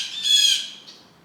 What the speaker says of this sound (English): we have like a baby crow situation in our yard